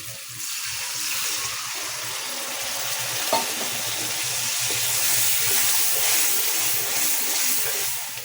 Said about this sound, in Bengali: এ দিচ্ছি একটু শুকনো মরিচের গুঁড়া মশলা কষানোর জন্য একটু পানি